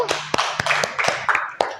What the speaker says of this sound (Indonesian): Beri tepuk tangan dulu kepada kelompok 1.